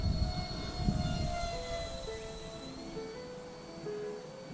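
A foam-board F-5 Tiger II model jet with twin 30mm electric ducted fans flies at half throttle, giving a steady high-pitched whine whose pitch shifts as it passes, with wind rumble nearby.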